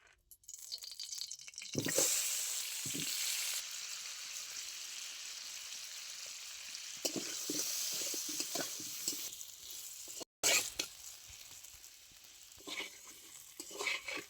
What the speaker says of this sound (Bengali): মাছ ভাজা তেলের মধ্যে আরো একটু সরিষার তেল দিয়ে আলুটা আমি ভেজে নেব।